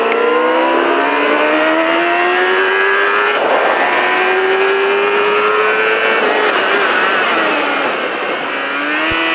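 A motorcycle accelerates out of a corner on a racetrack, its engine loud and close as the pitch climbs and falls through gear changes over a constant, steady roar.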